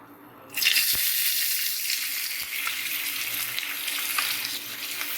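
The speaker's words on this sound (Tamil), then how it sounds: "எண்ணெய் காஞ்சிருச்சு. வெங்காயத்தை போடலாம்." Onions dropped into hot oil for a Chettinad chicken curry start a sudden loud, steady hiss and crackle that carries on close-up, with a couple of soft knocks.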